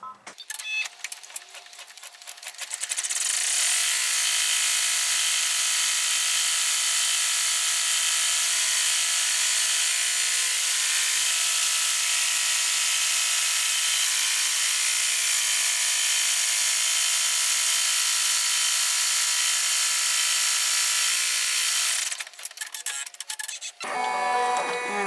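A machine-embroidery unit stitches out a lined in-the-hoop corset shoulder zipper bag in a 6x8.5 hoop: a loud, continuous high-pitched whirring buzz with rapid needle ticking that runs for about twenty seconds, then stops.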